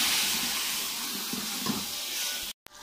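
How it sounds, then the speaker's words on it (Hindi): Water is poured into a pan of chilli masala cooking on the stove. A steady hiss and sizzle runs at low volume, then cuts off abruptly near the end. "इसमें थोड़ा पानी डालेंगे ताकि हमारा मसाला जल ना जाए।"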